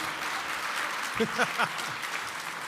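Steady audience applause at Somerville's city inauguration ceremony, a continuous hiss of many hands heard from a distance, with a brief voice calling out partway through.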